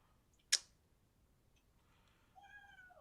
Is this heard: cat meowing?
yes